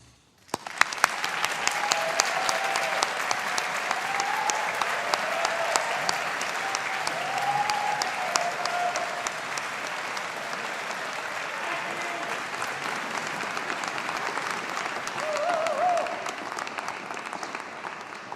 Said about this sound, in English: let us take the opportunity to show our appreciation and gratitude with a round of applause for those of you who have supported you